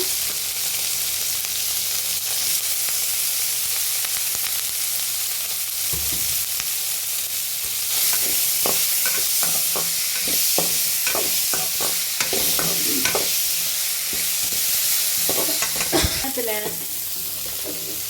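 Chopped tomatoes sizzle and fry in a hot pan while a utensil stirs and scrapes through them in quick irregular strokes, loud and close, with no talking.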